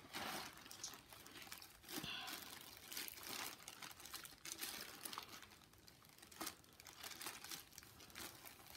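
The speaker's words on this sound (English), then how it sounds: "Rip it open." Paper wrapping on a package being torn and crumpled open, a steady stretch of crinkling, ripping and rustling that runs the whole time, fairly close and without speech.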